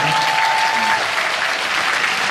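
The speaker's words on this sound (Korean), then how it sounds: "큰 박수 한번 보내주시겠습니다" Loud, dense applause from a large audience at an outdoor welfare rally in Busan, continuous and even throughout.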